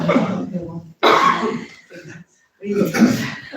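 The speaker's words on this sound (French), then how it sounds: "ça tousse." Several close coughs come in short, rough bursts with brief pauses between them.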